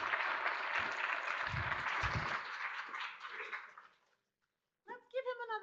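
An audience at a digital transformation summit applauds a finished talk, a broad wash of clapping that fades out after about four seconds, followed by a brief pause before a voice starts speaking.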